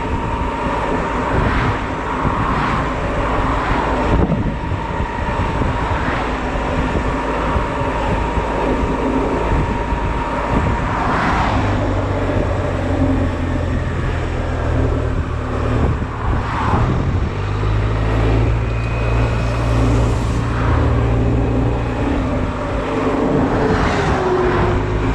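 Steady loud engine drone and wind rush from a Honda Silver Wing motor scooter riding toward the sea, continuous throughout with no talk.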